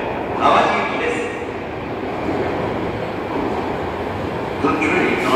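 An Osaka Metro 66 series subway train rumbles into Dobutsuen-mae station on the Sakaisuji Line, with a steady roar and squealing brakes, while a voice makes a Japanese public-address announcement over the noise.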